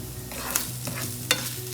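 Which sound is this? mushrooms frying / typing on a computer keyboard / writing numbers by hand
mushrooms frying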